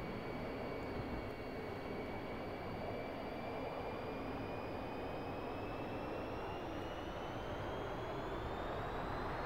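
A jet aircraft spools up and takes off in the DCS World flight simulator: a loud, steady engine roar with a slowly rising whine throughout, no voices.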